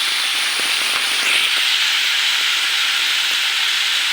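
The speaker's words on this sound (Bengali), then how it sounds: "প্রথমে আমি আলুটা ভাজি করব, সেজন্য কড়াতে তেল দিয়ে দিচ্ছি" Potatoes fry in hot oil in a wok, a loud, steady close sizzle and hiss with faint pops, continuous from start to finish without talking.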